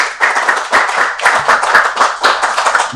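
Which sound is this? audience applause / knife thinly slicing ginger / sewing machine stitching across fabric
audience applause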